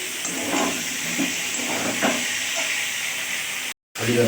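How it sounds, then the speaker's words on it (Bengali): Potatoes for a meat dish fry in a pan with a steady broadband hiss and sizzle, close and constant, with a short silent break near the end. "এই দেখো মাংসের আলু ভেজে নিচ্ছি"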